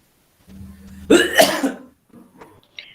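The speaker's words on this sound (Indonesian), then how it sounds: "batuk-batuk nih" A person coughs once, sharply and close by, after a low hum, followed by faint throat noises.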